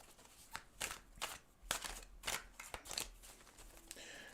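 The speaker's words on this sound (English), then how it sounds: "Let's do a quick shuffle." A deck of cards being shuffled quickly, heard as several close, crisp riffling bursts in a row with short pauses between them, in a quiet room with no talking.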